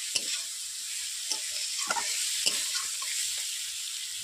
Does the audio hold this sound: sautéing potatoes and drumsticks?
yes